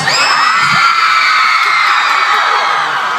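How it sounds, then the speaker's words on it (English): A crowd of fans at a mall event screams and cheers loudly and continuously, a dense sustained wall of high-pitched shrieks. "what makes fans scream all the time is if you just say greenhouse"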